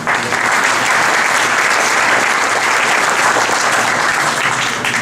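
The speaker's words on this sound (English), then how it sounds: "Give Ileana a round of applause" A tech meetup audience applauds continuously at steady loudness for several seconds, a dense wash of many hands clapping at once with no voices standing out.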